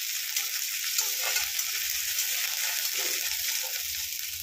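Ginger frying in hot oil for a Bengali cauliflower and potato curry, a steady close sizzle with faint stirring scrapes underneath.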